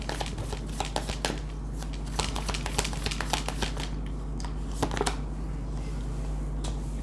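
Tarot cards being shuffled and drawn: repeated crisp riffling and flicking of the deck in irregular bursts, close and fairly soft, over a steady low hum with no talking.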